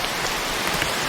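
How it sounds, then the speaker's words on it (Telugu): Heavy rain pours steadily as a dense, continuous hiss of drops on surfaces, loud and close throughout with no voices. "ఆ పెద్ద వర్షం మీరు వినండి కావాలి."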